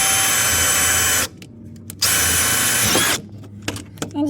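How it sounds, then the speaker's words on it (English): Power drill boring through rubber on a BMW E46 during a manual transmission swap, a loud steady whine in two bursts separated by a short pause, then quieter clicks and taps. "I'm gonna drill through the rubber"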